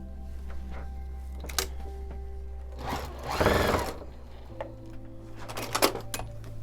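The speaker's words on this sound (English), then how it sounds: "so I'm going to sit down at the machine. I'm going to get my seams together right here, and then I will sew all the way through right here." A sewing machine stitching a fabric scrunchie made from scraps, with short stop-start bursts of stitching and handling clatter over a steady hum.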